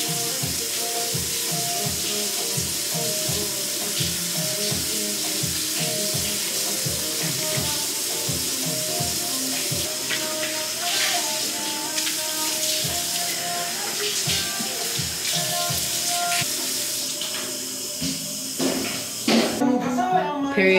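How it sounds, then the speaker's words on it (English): Water runs from a hotel sink faucet for face washing, a steady close hiss that continues the whole time beneath faint rhythmic tapping and low background sounds, and it grows busier near the end. "we're gonna go ahead and wash your face"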